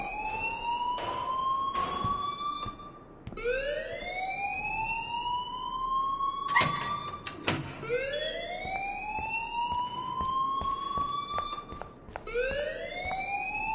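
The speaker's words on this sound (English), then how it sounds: "please turn off that alarm since that's your job" In the video game Life is Strange, an alarm wails continuously as a series of rising siren sweeps repeats every few seconds. It is loud and steady, with no talking over it.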